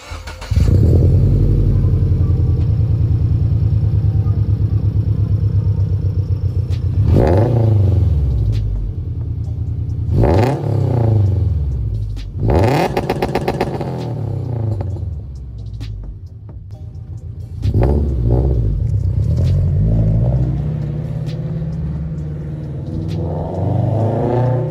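A car exhaust with a Tomei unequal length header, Tomei overpipe, catless front pipe and N1 catback rumbles at a loud idle, then revs sharply several times, each rev climbing and falling before settling back to a deep burble.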